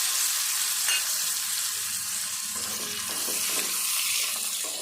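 Washed tamarind fries in hot oil for a ridge gourd pickle, a dense, continuous hiss and crackle with a few faint stirring sounds underneath.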